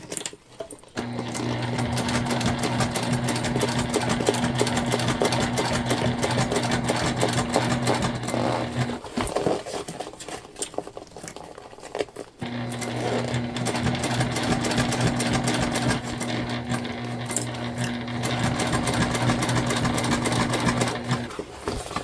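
A sewing machine stitches a leopard-print tote bag in two long, fast, steady runs with a brief pause between, close and loud with a rapid mechanical chatter and no talk.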